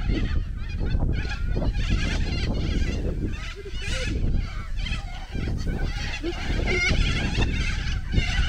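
Geese honking loudly and continuously near a coastal town in Western Australia's Pilbara, a dense overlapping chorus of calls running throughout with no talk.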